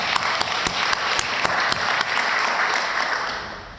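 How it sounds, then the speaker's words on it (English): Audience applause at a creative dialogue event with a dancer and choreographer, a full steady burst of clapping with distinct sharp claps near the front, fading slightly at the end. "I want to clap for you"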